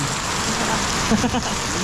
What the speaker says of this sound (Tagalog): update lang mga friends inabot na ako din ng tag-ulan